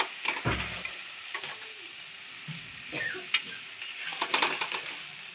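Stuffed pointed gourd (potol dorma) gets stirred in a pan, with a quiet sizzle beneath a few scraping spatula strokes and light knocks against the pan, close and without speech.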